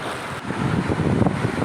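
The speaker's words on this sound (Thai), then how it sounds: "กระแสน้ำไหลเชี่ยวนะครับไหลเชี่ยวมาก" Fast-flowing floodwater rushing through flooded Hat Yai, a steady broadband wash of churning water that swells slightly louder after the first half-second and continues unbroken, with no voices.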